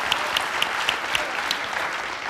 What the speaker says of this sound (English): Let's give Matthew a round of applause.